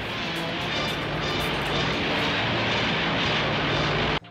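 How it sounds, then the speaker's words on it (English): A very large airplane, the world's biggest, roars steadily as it flies and lands, a loud continuous engine drone that cuts off abruptly at the end. "Showing the world's biggest and most controversial plane flying and landing."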